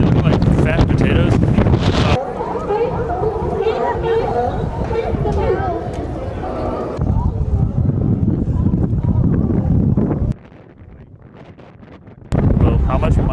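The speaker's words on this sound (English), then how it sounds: "So it's very windy" Strong wind buffeting the microphone at a seaside sea lion viewing spot, loud rumbling gusts rising and dropping in sections, with people talking over it.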